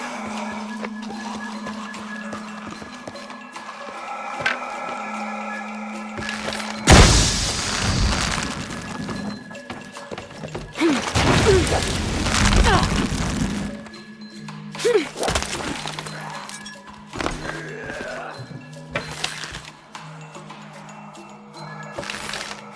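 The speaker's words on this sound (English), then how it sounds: "Have to create an explosion." An explosion in the video game Shadow of the Tomb Raider, a loud booming blast with crashing, shattering debris rolling on for several seconds, then further heavy thuds amid quieter game ambience, no talk.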